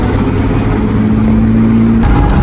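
Car accelerating on a road, racing alongside a Renault Mégane 4 RS and a BMW X3 ahead, heard from inside as a steady, loud engine drone with rising tone and road rumble throughout.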